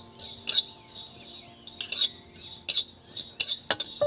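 Cumin seeds stirred in a dry pan with a utensil, giving several sharp scraping clinks in bursts against a quiet background; no talking.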